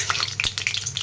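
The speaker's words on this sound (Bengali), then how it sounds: "এখন ফোড়নে দিয়ে দিলাম একটু গোটা গরম মশলা, তেজপাতা।" Whole garam masala and bay leaves dropped into hot mustard oil crackle and sizzle loudly in a short, busy burst of popping.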